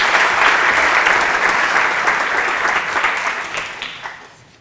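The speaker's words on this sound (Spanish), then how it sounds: "Aplauso, aplauso para él, ahora sí." A crowd at a mathematics and magic talk claps loudly in a dense burst of applause that holds steady, then gradually thins and fades out.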